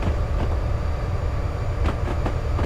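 A train in the Railworks simulator game rolls along with a steady, loud rumble and a few faint clicks of wheels over rail joints.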